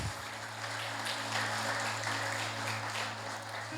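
A church audience applauds during a sermon, a steady wash of clapping from many people over a low electronic hum, moderately loud and continuous.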